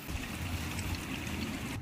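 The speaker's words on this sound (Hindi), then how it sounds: "एकदम ताजा ताजा पानी गिर रहा है।" Fresh water falls and trickles at a fishing spot, a soft, steady wash that stays quiet and even throughout without any talk.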